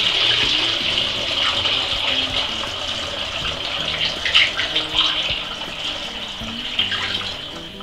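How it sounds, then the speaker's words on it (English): A jug is filled with water to the 2 liter mark for a homemade yeast nutrient, a close, continuous gushing pour with bright splashing and bubbling that swells and eases slightly throughout, no talk. "And now I'm going to top it up to the 2 liter mark using the same jug."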